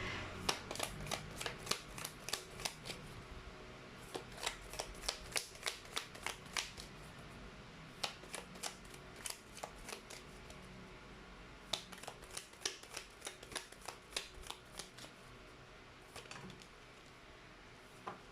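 Crystal oracle cards are shuffled close up in bursts of quick, crisp riffling flicks with brief pauses between rounds, quiet and with no voice over them.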